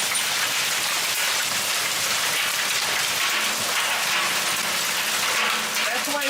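In late June, hail pelts an outdoor metal barrel with a dense, continuous clatter and rattle that stays loud and even throughout.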